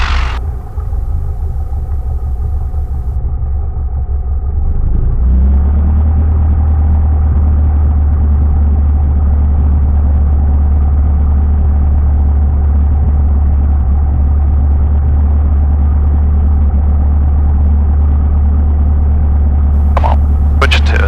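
A small airplane engine idles during the pre-flight idle check, a loud, steady low drone that settles lower and smoother partway through and continues unchanged for a long stretch, with speech mixed in.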